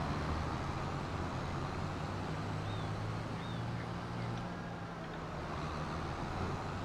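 In the Farming Simulator 25 video game, the engine of a K7150 tractor drones as it drives, a steady low rumble that stays constant and fairly close throughout.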